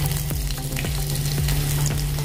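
Mustard seeds, cumin, garlic cloves and asafoetida sizzle steadily in hot oil for a home-cooked Maharashtrian veg lunch, with a loud, even frying hiss and some sharper pops, heard close up and without talk.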